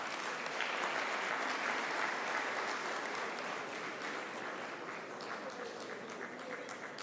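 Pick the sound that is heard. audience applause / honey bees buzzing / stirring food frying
audience applause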